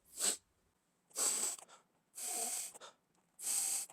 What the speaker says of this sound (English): Let me give it a good whiff here.